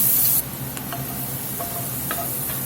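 One small onion sweats in a pan with a steady, close sizzle and soft frying hiss, a brief stir or spoon touch near the start, and no voices.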